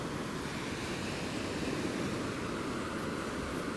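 Ocean waves break on a US beach where surfers are out, making a continuous, close, even roar of surf with some wind noise and no voices.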